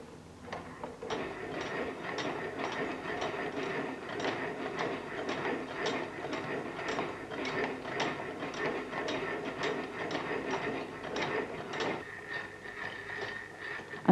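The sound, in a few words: gear mechanism of Bryan Donkin geometric lathe running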